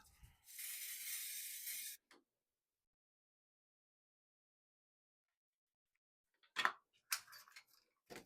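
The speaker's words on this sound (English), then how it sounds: "So I'll spray the back of this with some Super 77." A short, sharp hiss of Super 77 spray adhesive onto the back of a model piece lasts about a second and a half, followed by silence and then a few faint clicks and rustles.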